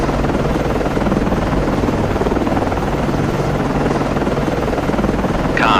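An aircraft launching from a submarine in the naval game Cold Waters, heard as a loud, steady rotor-like drone that thrums evenly throughout, with no talk.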